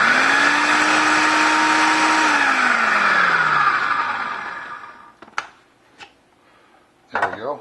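A food processor whirs loudly and steadily as it blends mojo marinade herbs and aromatics into a paste, its motor winding down before a few short pulses and clunks.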